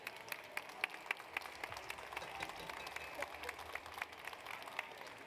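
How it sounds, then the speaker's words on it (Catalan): Faint applause from an audience for students at a school gastronomy event, a quiet, steady patter of many hands with a few sharper individual claps standing out. "un aplaudiment per elles,"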